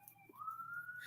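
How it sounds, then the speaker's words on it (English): A police siren wails faintly in the distance, a thin rising tone that climbs and holds steady behind a low background hum. "Excuse the sirens and the children in the background."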